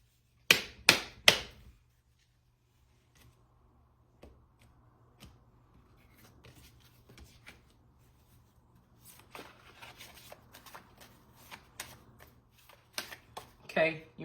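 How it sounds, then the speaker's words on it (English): Tarot cards shuffled by hand during a pick-a-card reading: a quick burst of crisp riffling at the start, then soft scattered taps and shuffles that build into a denser flurry near the end. "I'm gonna shuffle."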